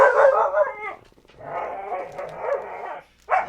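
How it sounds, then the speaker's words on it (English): A dog barks and howls in a home, two long vocal bursts with a pause between and a third starting at the end, close and loud, no talking. "Yeah, that is Ivy barking."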